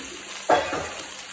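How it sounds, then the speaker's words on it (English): Vegetables tipped into a hot pan of browned meatballs set off a sudden loud sizzle that bursts in at once, then settles into steady frying hiss, with no talk. "So I'm going to add the vegetables. Pop all them in."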